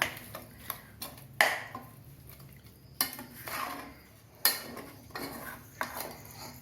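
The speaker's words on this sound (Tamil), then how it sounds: "கொஞ்சம் தீயை பெருசாக வச்சு நல்லா கிளறி விட்டுக்கணும்" Ladle scraping and clinking against a metal pot while sweet pongal made with sugar is stirred over a raised flame, giving several sharp knocks and scrapes in an uneven rhythm, close and clear with no talk.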